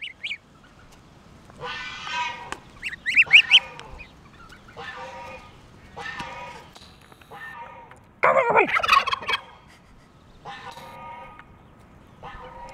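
A human voice imitates a turkey, giving a series of gobbling calls in short bursts spaced a second or two apart. It sounds close and fairly clear over a quiet background.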